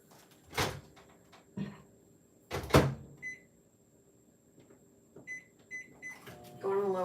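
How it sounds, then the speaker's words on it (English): A kitchen microwave oven heating Easter pretzel treats: a door thuds shut, a few short keypad beeps follow, and a low running hum starts near the end, all close and fairly loud. "I'm going to pop these in the microwave for like"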